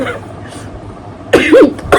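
A sharp cough bursts out near the end after a stretch of quiet, close to the microphone, with a short vocal sound at the start.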